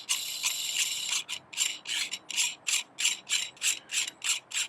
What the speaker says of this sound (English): Some really fine thread, so it takes a while to come off.